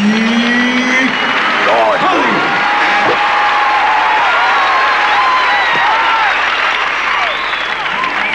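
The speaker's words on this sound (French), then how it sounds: "Maintenant, applaudissez celui qu'on ne présente plus." Audience applause fills the space, loud and continuous throughout, with a few whoops and crowd voices over the clapping.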